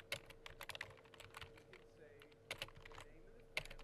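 Typing on a computer keyboard while entering photo metadata: quiet, irregular keystrokes in short bursts and scattered single taps over a faint steady hum.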